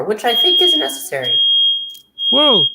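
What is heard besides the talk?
smoke alarm beeping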